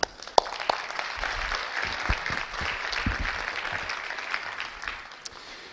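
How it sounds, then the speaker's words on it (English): An audience at a teaching conference applauds the organizing committee: a few sharp claps first, then sustained, fairly close clapping from the crowd that thins out toward the end. "If you share my view, let's applaud them."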